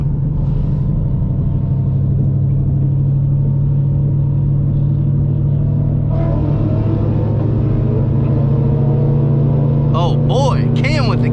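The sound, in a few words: cars racing from 40 mph at a car meet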